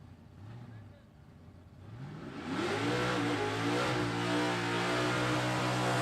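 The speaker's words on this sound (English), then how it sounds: "All right, Jason Earl, nice big strong burn out, a little Datsun. 393 Cleveland" A little Datsun with a 393 Cleveland V8 revs hard during a drag strip burnout, the engine note climbing and then holding loud and steady, with a voice over it at first.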